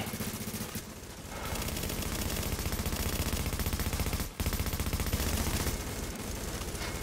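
Sustained automatic gunfire from a deployed turret in Tom Clancy's The Division rattles on almost without pause, loud and dense, with one brief break midway.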